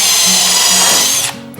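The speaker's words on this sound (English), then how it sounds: "Let me drill a hole here." A power drill bores a hole through wooden wall paneling, a loud, steady high whine for about a second before it abruptly winds down and stops.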